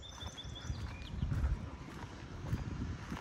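Hooves of a horse-drawn carriage clip-clop at a moderate distance outside a Canadian student dormitory, a soft irregular clatter with faint bird chirps above it.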